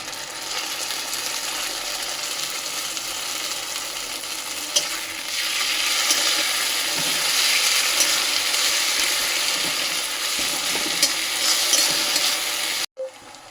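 Ginger garlic paste frying in a pan of fried onions: a steady, loud sizzle with stirring scrapes and occasional clicks, swelling in intensity midway and cutting off abruptly near the end.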